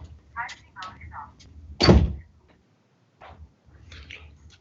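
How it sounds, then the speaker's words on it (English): A door swings shut in a room with a single loud, close thump, with talk before and after it. "Let me close my door."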